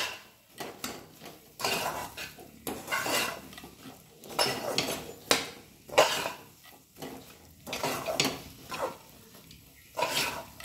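A sweet sugar and powdered-milk mixture for sugar naru is stirred in a bowl, with close, irregular bursts of scraping and light clinking against the bowl separated by short pauses.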